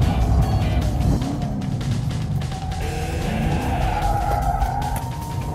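A Corvette with an LS3 engine brakes hard from about 100 mph on a track lap, giving a loud, steady blend of engine drone, road and wind roar with tire noise throughout.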